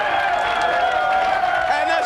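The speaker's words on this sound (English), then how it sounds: "And this crowd is pumped." A crowd at a mixed martial arts light heavyweight bout cheers and applauds steadily, a dense roar under a commentator's voice.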